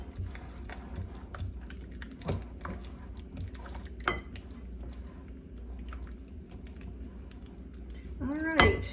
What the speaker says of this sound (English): I'm just going to try to mix that in with the pumpkin a little bit